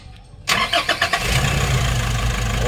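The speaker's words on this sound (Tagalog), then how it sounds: "So ngayon mga bossing, start natin tong NV350." A Nissan NV350 van engine cranks with several rhythmic starter pulses, catches, and settles into a loud, steady, low idle close by; the van is reported to vibrate strongly.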